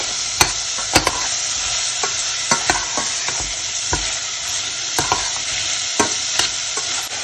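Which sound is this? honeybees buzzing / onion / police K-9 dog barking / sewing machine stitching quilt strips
onion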